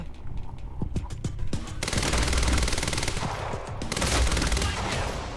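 Gunfire in the action game Quantum Break: a few sharp separate shots, then sustained rapid automatic bursts that rattle on loudly and close, with a short pause before another long volley.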